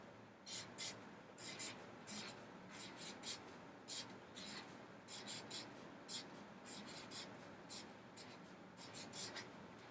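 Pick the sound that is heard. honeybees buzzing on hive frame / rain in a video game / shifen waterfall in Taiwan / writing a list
writing a list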